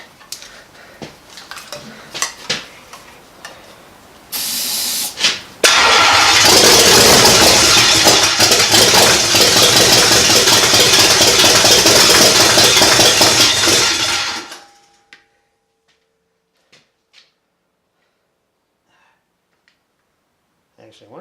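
A Buick 401 Nailhead V8 cranks with the starter still engaged and catches into a loud, rough, chuggy run that holds for about nine seconds and then cuts off, with someone talking before it starts.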